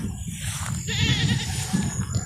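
A pregnant Anglo-Nubian doe goat bleats in a wavering, drawn-out cry over steady low background rumble, close by with no talking.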